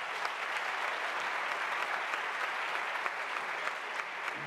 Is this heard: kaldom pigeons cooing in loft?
no